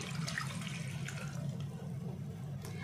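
Water pours into a pan holding cornflour, a steady rushing liquid sound at moderate level with no talk over it.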